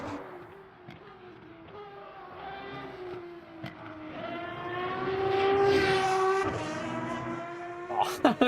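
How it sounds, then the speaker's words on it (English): Racing car engine in the Le Mans Ultimate sim with a high, rising and falling whine and a layered harmonic tone reminiscent of an old F1 car, climbing through revs, then dropping with gear changes, steady and prominent. "It's got a sound of an old F1 car, a little bit."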